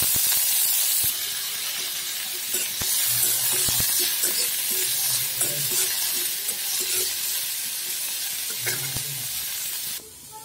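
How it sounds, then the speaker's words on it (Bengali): Chopped onions hit hot oil with cumin seeds in a pan, bursting into a loud, close sizzle that hisses steadily, with scraping stirs and small clanks throughout, and no one talking. "একটা পেঁয়াজকে এইভাবে কুচিয়ে নিয়েছি, তেলের উপর পেঁয়াজগুলো দিয়ে দেব।"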